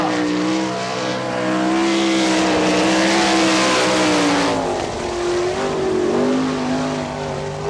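A race car lapping the speedway at Wichita, its engine howling loud and close with rising and falling revs as it sweeps past.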